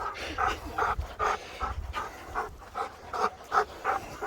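Dogs pant rhythmically out on a walk, quick close breaths in steady bursts with small pauses, loud and near.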